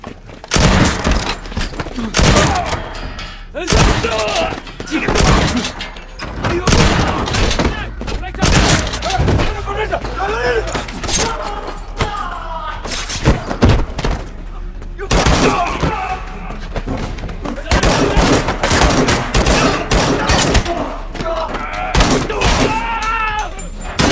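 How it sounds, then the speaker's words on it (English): Movie shotgun gunfire rings out in a gang fight scene, a dense run of loud, sharp blasts and booms with thuds, interleaved with a narrating voice throughout. "Brian climbs up the stairs and sees two of them incoming, so he takes them down with the shotgun"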